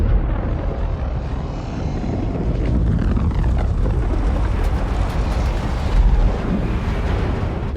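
Airbus A320 airliner struck by a flock of Canada geese, both engines having lost thrust: a steady, loud roar of rushing airflow and wind noise fills the cockpit continuously, with no voices.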